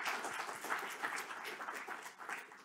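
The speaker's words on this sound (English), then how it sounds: "Let's give another round of applause for Robert." Audience applause at a university lecture event, steady dense clapping from a crowd throughout with no speech over it.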